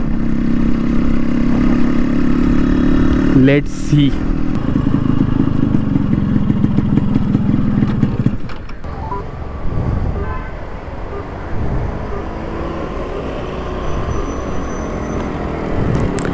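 A fully tuned Yamaha RX135 motorcycle engine runs loudly and steadily at close range, then drops to a lower idle with a brief voice over it.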